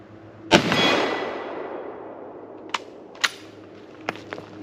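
A Mosin Nagant 1891/30 rifle fires one loud, sharp shot outdoors at steel plates set among rocks at 100 to 200 metres, with a long rolling echo. Several fainter metallic pings from the plates follow, spaced about a second apart.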